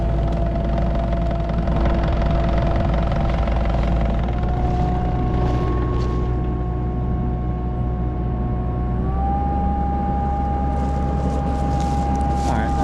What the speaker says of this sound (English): I just had her give it a little more throttle so we can get some more speed on the head there, do a better job of grinding.